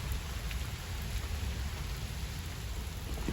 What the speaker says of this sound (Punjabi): ਅੱਜ ਮੀਂਹ ਚਲੋ ਰੱਬੀ ਪੈਣ ਲੱਗ ਗਿਆ ਹੁਣ ਹੈ